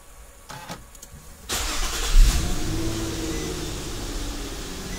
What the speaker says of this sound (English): And I have a successful start. The vehicle is running.